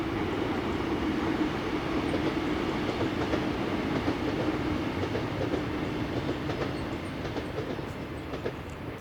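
A ScotRail passenger train crosses Motherwell Viaduct, giving a steady rumbling roll with faint clickety-clack from the wheels, fairly distant and continuous for the whole stretch.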